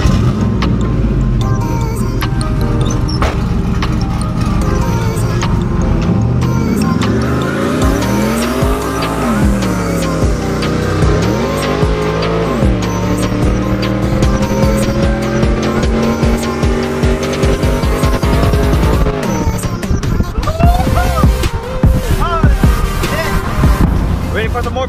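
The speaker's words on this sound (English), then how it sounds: "Now truck is ready for some more burnout." Pickup truck doing a burnout at a truck meet, engine roaring and revving hard while tires squeal continuously, pitch sweeping up and down in sustained loud waves throughout with background chatter.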